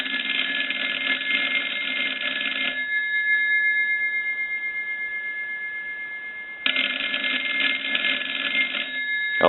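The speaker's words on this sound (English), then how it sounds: "I'm going to go ahead and ring the telephone again." A Galion rotary desk telephone's bell rings loudly and close by in two long bursts, with a short gap of quiet between them and a brief clatter at the very end; no one speaks.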